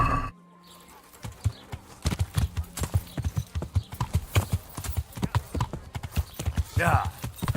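Horse hooves clip-clop in the medieval game Kingdom Come: Deliverance, a fast, even run of loud thuds after a brief pause, with a short whinny near the end and a player talking over it.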